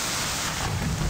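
Heavy rain and rumbling thunder in a video game, a continuous hissing downpour over a deep low roll of thunder that swells toward the end, loud and unbroken.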